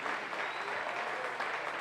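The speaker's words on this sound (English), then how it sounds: "Caroline O'Hanlon, I've no doubt, will get a brilliant round of applause" Warm applause from a Gaelic football crowd at an Armagh versus Monaghan All-Ireland Senior Championship match, a steady dense wash of clapping heard from a distance, even in level throughout.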